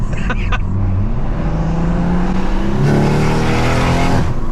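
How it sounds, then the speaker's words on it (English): A loud, close BMW M140i with a big turbo revs and climbs in pitch under acceleration, with a rough, raspy turbo exhaust roar through a screamer pipe and a brief whoosh at the start. "the screamer pipe just gives the car so much of a personality"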